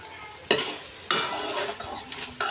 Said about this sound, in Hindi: और फिर इसमें ये डालती हूँ मैं चूंटिया घी